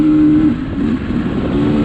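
An off-road vehicle's engine climbing a rocky canyon trail, revving loudly and close with a low steady drone that dips and recovers as it shifts into fourth gear.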